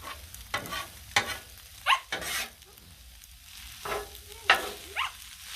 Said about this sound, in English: Now that the veggies are starting to finally cook.